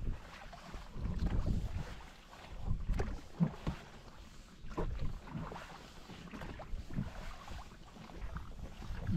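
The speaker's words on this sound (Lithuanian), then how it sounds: "toks geras šiaurys pučia" Strong cold north wind gusting over a fishing boat on the water, low rumbling buffets of wind on the microphone rising and falling in uneven surges.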